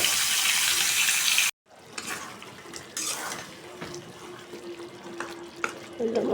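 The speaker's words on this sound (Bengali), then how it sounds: "এই যে গোস্তগুলো দিয়ে দেবো তেলের ভিতরে" Pieces of meat dropped into hot oil for a biryani curry give a close, steady sizzle with stirring clatter that resumes after a brief silent break.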